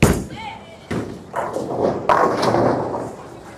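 A bowling ball is released and rolls down the lane, a heavy thud followed by a steady rumbling roll, with another impact and continued rolling, under a voice speaking.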